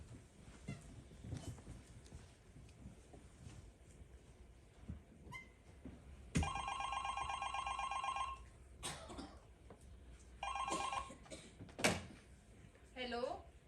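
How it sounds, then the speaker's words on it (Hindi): A shop telephone bell rings as a stage effect during a theatre performance, sounding in two bursts of steady electric trilling against faint room noise and scattered knocks. "तभी दुकान के फोन की घंटी बजी।"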